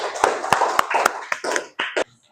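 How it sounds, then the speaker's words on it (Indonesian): A classroom claps for a student group, a burst of uneven claps and taps that thins out and stops, with some voices mixed in. "tepuk tangan untuk kelompok 1."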